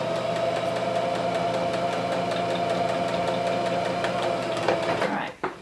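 A sewing machine hums steadily as it stitches two layered pieces of fabric for weightlifting wrist wraps, the close, even drone stopping abruptly near the end with a few clicks as the work is turned.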